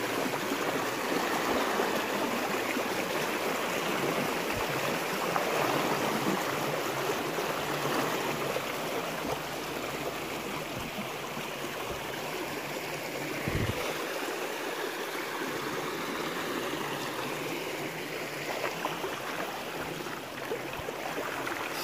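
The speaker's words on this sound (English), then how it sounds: "The water's moving." Water flows steadily over the limestone bed of a Florida creek, a close, continuous broadband rush that lasts the whole stretch with slight swells and no voices.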